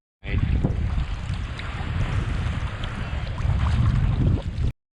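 Strong wind roars across the microphone on open water during a sea kayak crossing off Kangaroo Island, a constant loud buffeting rush with choppy sea noise beneath, no voices.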